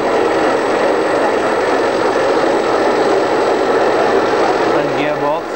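A tipping and flagging machine for paint brushes runs steadily, driven by a gear motor and gearbox, giving a continuous loud mechanical hum and whir throughout with a brief change near the end.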